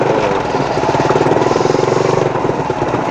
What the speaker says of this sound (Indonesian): Nah, kita pakai motor doang teman-teman sini.